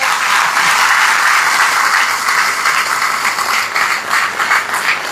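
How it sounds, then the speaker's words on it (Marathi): A crowd at a Marathi speech on Shivaji Maharaj applauds continuously, a loud, dense, sustained clapping that holds steady for the whole stretch with no talk over it. "त्या खऱ्या टाळ्या माझ्यासाठी येत आहेत."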